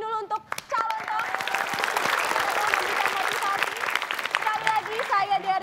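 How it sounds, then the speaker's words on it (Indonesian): A television studio audience claps and cheers in one burst. Voices can be heard briefly before and after the applause. "kita kasih tepuk tangan dulu untuk calon dong."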